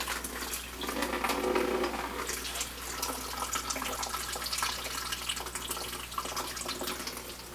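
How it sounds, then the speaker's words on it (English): Water gushes and splashes steadily as it drains out of a freshly cut pipe, a dense rushing spray with a low hum underneath, continuous throughout. "let the water drain out of it"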